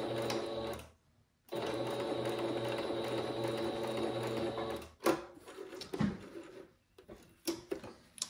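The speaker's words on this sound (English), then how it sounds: "finish it off with another straight stitch across." A sewing machine runs a straight stitch across a fabric chalk bag for disc golf grip, a steady fast whirring hum that stops briefly, resumes for several seconds, then gives way to scattered handling clicks and rustles.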